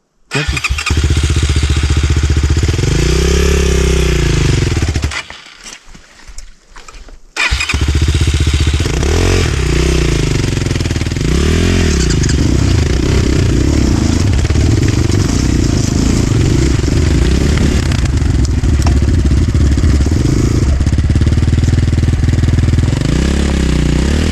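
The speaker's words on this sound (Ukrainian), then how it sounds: "Маленький мотик, просто бери і їдь." A small Rottor F1 enduro motorcycle ridden off-road, its close, loud single-cylinder engine revving and accelerating in surging pitch sweeps, dropping out briefly before restarting and pulling hard again.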